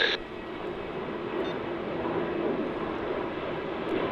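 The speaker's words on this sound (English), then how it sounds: "the Virgin Australia 737 flight to Cairns, VA1293" A Virgin Australia Boeing 737 at Melbourne Airport sends out a steady, broad jet engine roar from a distance, a constant wash of noise that holds evenly throughout.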